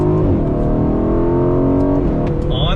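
A 2019 Aston Martin Vantage sports car accelerating on throttle, a loud steady engine roar rising in pitch as it pulls hard, with a brief shift-like drop near the end, close and continuous.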